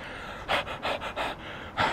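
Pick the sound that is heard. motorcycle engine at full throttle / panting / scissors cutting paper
panting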